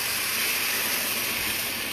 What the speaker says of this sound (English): Okay, and it's gonna steam up.